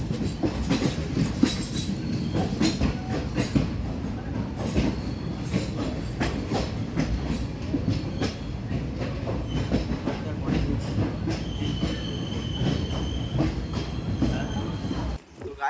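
A long-distance passenger train on a Kolkata to Goa route runs steadily on its rails, a loud continuous rumble with rattling wheel clatter and brief metallic squeals, close and enveloping throughout.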